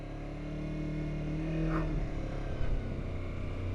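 Kawasaki Versys X300 motorcycle engine idling and lugging at low speed, a steady low rumble with small throttle swells held in the friction zone, close and continuous with no talking.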